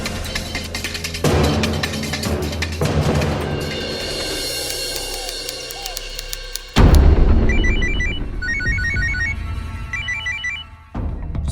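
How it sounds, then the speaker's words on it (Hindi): A phone ringtone chirps in repeated bursts of high electronic tones, fairly loud, over a dense, busy background. "सुबह से फोन कर रहा हूं, शिवानी मेरा फोन क्यों नहीं उठा रही?"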